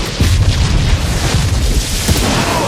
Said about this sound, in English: An explosion rips through a cement wall between two huddled soldiers.